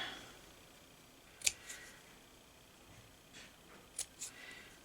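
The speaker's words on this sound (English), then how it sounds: "So I'm going to cut this side really short." Scissors snip fabric while a small craft chicken is trimmed, two faint, close, crisp cuts spaced a few seconds apart, each followed by a softer snip, in a quiet room with no talking.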